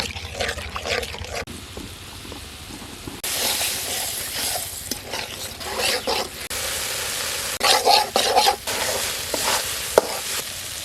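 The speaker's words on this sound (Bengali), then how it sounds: "এবার সব মশলাটা একসাথে ভালো করে কষিয়ে নেব" Spices with turmeric and a splash of water sizzle in a pan, stirred with intermittent scraping strokes, the frying hiss rising and falling between bursts of stirring.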